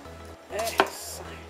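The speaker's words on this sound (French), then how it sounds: "On va couper une belle tranche." A knife slices through a stuffed pork roast, a short crisp cut with a sharp crunchy burst near the middle over a low steady hum in a quiet kitchen.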